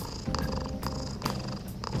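A finger rubs the touchpad of a PS4 controller in Persona 5 Royal, producing a soft, rhythmic purring rumble with pulses recurring about every half second, close and quiet.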